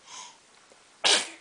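A baby gives one sharp sneeze near the end, loud and close, after a quieter stretch of faint breathy sound.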